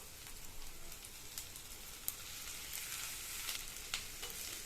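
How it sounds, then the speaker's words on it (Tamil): Thin lengthwise-cut ivy gourd slices fry and get stirred in oil over a high flame, giving a steady soft sizzle with light scraping and a few sharp clicks, moderately quiet and close, with no talking. "கோவக்காய் சேர்த்ததுக்கப்புறமா நல்லா எண்ணெயிலேயே நல்லா இந்த மாதிரி பிரட்டி விட்டுருங்க"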